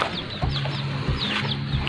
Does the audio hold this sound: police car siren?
no